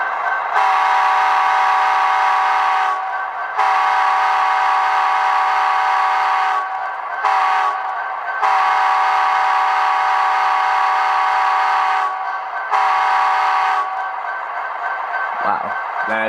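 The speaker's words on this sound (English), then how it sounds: "let's go ahead and blow the whistle, or the horn" An Athearn Genesis SD70ACe EMD demonstrator #1209 model diesel locomotive horn sounds in long, loud, multi-tone blasts, repeated several times with short gaps, then a few mechanical clicks at the end.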